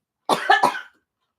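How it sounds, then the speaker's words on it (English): A single close cough, short and sharp with two or three quick bursts, followed by silence. "I hate that when you have to cough and sneeze."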